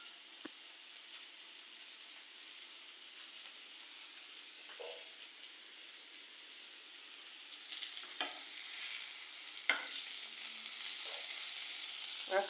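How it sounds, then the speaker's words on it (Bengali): Malabar spinach frying gently in a pan, with a soft, steady sizzle and occasional faint clinks and scrapes of stirring, quiet and close. "আস্তে আস্তে করে ভেজে নিচ্ছি।"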